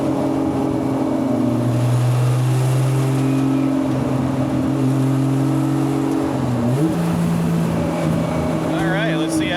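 A 1978 Datsun 280Z engine revving at partial throttle, loud and close, its pitch climbing in steady stepped pulls with a brief dip and rise near the end, while a voice speaks over it.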